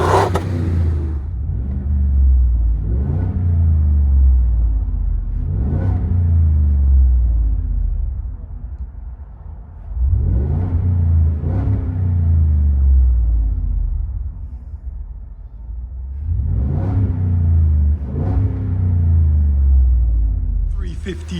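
Ford F-350 Super Duty with a 7.3L gas V8 and modified exhaust, heard from inside the cab as repeated deep revs swell and fall over a rumbling idle, with voices now and then.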